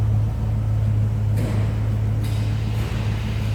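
A 1992 Ford Mustang Convertible Summer Edition idles with a steady, deep, low rumble that stays even throughout, a faint hiss riding above it.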